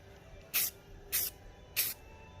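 Three short, loud bursts of spray paint hiss close up over an exhaust gasket greased with axle grease on a muffler, evenly spaced with quiet gaps between them.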